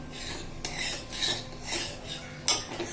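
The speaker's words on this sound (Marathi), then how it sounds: "मग परत एकदा ढवळून घ्यायचं" A utensil scrapes and rubs around the inside of a pot of spiced yogurt mixture for pithla in repeated strokes, soft and close, with a sharper clink near the end.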